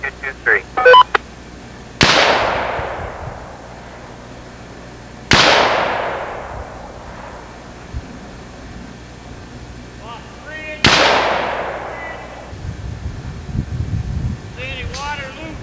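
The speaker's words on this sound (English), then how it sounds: "Range is going hot and we're using the same 55 grain full metal jacket 223." Three loud .223 rifle shots firing 55 grain full metal jacket rounds crack out at a range several seconds apart, each with a long echoing decay, while brief voices are heard between them.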